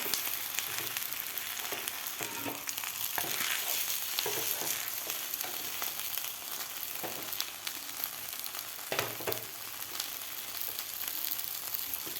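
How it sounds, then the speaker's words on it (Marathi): A semolina uttapam fries in a pan over a medium gas flame, giving a steady, close sizzle and crackle throughout, broken by occasional light clicks and scrapes. "मिडियम गॅसवरच आपल्याला हे उथाप्पा भाजून घ्यायचा आहे"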